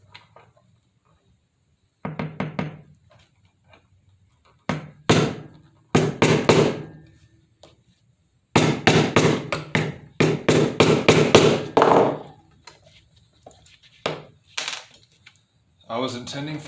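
Bursts of sharp, ringing metallic hammer blows drive a pin through holes in scrap-metal armor splints for a vambrace, coming in rapid runs with short pauses between them, loud and close in a quiet space.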